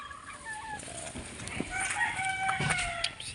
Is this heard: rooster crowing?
yes